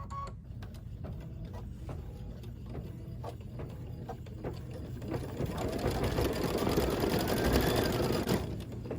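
An embroidery sewing machine stitches a small tail in red thread with a fast, steady mechanical chatter of the needle that grows slightly louder toward the end, heard alone.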